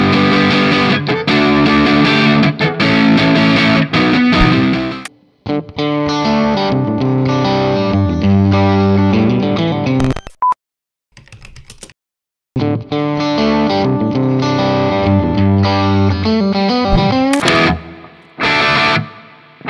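Rock music with heavily distorted electric guitar chugging through non-diatonic chords, loud and dense, stopping abruptly twice with short silent breaks before resuming.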